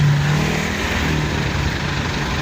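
Cars in morning traffic at a crossing in La Union, heard as a continuous close engine rumble with a steady low hum, loud and without voices.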